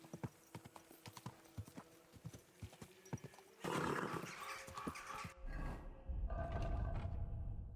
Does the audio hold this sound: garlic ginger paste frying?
no